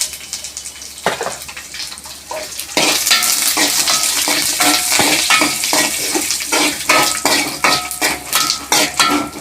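Curry leaves tossed into hot oil for lemon rice (nimmakaya pulihora) give a loud, close, steady sizzle that jumps sharply in volume partway through, with scattered clinks of a spoon stirring in the pan.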